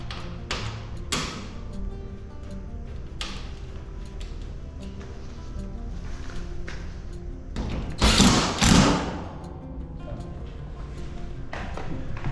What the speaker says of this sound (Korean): 폴리카보네이트를 힘을 줘서 끼워 넣어 주시면 되겠습니다